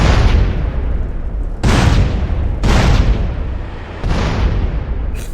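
A meth lab blows up in a Grand Theft Auto Hell On Wheels mod. Four loud, heavy booming blasts come one after another, each with a long rumbling tail.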